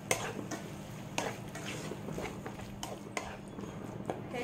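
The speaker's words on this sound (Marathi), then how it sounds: "त्याच्यामध्ये मी थोडासा चाट मसाला घालते आणि चांगलं मिक्स करून घेऊया बरं" Okra being stirred with chaat masala in a pan, a steady scraping and light sizzle with sharper clinks of a spoon against the metal at intervals.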